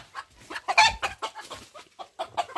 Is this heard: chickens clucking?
yes